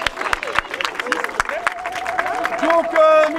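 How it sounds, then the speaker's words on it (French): A festival crowd at a street show applauds in scattered, sharp claps that build toward the end, while a voice and some background music run underneath. "Et on applaudit Micheline"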